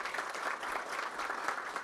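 A seated audience at a board meeting gives a round of applause, a dense, even patter of many hands clapping at moderate distance, sustained without pause for about two seconds.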